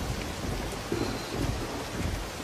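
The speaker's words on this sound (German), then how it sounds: "Bei Gewitter soll man nicht unter Bäumen sein." A thunderstorm pours heavy rain under trees outdoors, with a steady downpour hiss and low rumbling thunder rolling in a few soft swells, no voices.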